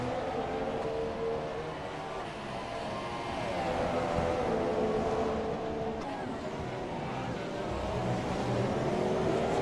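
Formula 1 race cars from the video game F1 2017 at the Singapore circuit, their engines droning and whining steadily with shifting pitch, loud and continuous.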